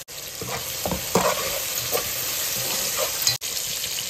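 Coriander and kasuri methi frying in a pan for chicken biryani make a continuous close sizzle, with repeated stirring scrapes and clanks of a spoon and one sharp knock near the end.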